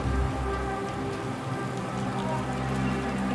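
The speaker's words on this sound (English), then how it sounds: "I could hear nothing but the sound of the rain drowning out my footsteps" Steady heavy rain pours down in a dense, continuous hiss, with a low rumbling undertone and no voices.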